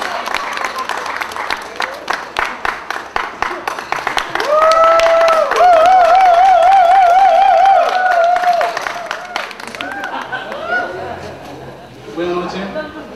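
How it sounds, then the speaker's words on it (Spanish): Wedding guests clap at a reception in Buenavista, in scattered, rhythmic bursts through the first half, while a sustained melodic tone sits over the middle. Voices and room noise carry on around the clapping. "Pido un aplauso para ella también"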